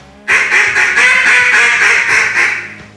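A duck call blown in a series of hen calls, loud and close, with rhythmic quacking notes repeating about every quarter second, no talking.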